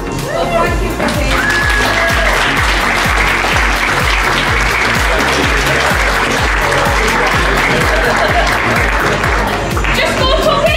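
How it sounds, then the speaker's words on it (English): Loud, steady applause from guests at a vow renewal celebration, close and full throughout, mixed with rhythmic music thumping underneath and voices in the background. "can we all give a round of applause?"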